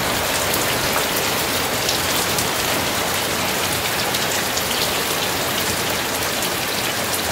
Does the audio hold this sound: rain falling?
yes